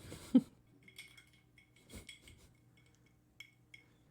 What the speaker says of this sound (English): I am going to drop a few ice cubes into my glass